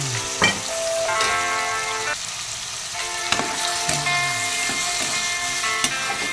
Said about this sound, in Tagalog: isunod na rin natin gisa ang ating sahog na chicken.